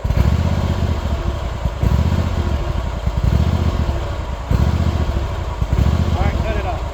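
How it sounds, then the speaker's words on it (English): Kawasaki engine running close by and surging badly, its rough idle rising and dropping in uneven cycles with some clattering and a voice speaking over it. "the Kawasaki engine is surging really bad"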